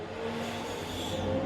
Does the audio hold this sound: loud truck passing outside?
yes